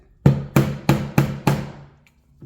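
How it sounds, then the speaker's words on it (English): Five sharp metallic hammer taps on a trigger pin of a Glock Performance Trigger in a steady rhythm, close up, followed by a faint final tap after a pause. "hammer that, make an indent"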